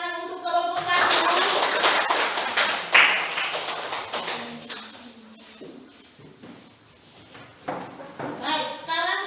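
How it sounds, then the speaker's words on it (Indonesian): A classroom group claps for a presenting student group, short bursts of scattered clapping and taps mixed with children's voices, fading into quieter shuffling. "Tepuk tangan untuk kelompok 1"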